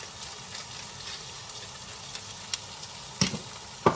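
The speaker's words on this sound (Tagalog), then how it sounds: "And stir fry the onion and tomato while putting all those spices." Onion and tomato stir-fry with spices in a pan, giving a quiet, steady sizzle with occasional soft scrapes and taps of a utensil toward the end.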